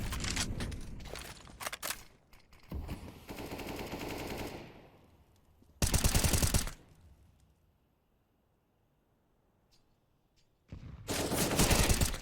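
Bursts of automatic gunfire in Counter-Strike: Global Offensive during an esports match, loud rapid volleys separated by a quiet stretch and a short sharp burst, then another sustained spray.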